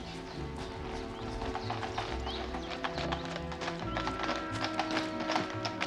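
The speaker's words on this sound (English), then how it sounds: "Stop the carriage, Watson!" Hooves of a horse-drawn carriage clip-clop in a brisk, steady rhythm over a low rolling rumble, close and continuous throughout.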